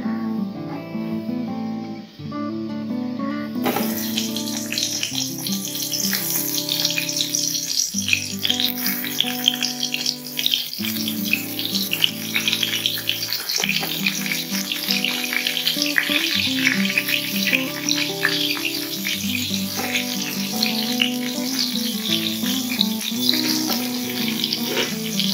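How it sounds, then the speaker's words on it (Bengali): Eggplant pieces drop into hot white oil and fry with a steady, bright sizzle and crackle that carries on loudly after a quiet start, punctuated by clinks from the pan. "তেল গরম হয়ে গেছে। বেগুনগুলো ছেড়ে দেবো।"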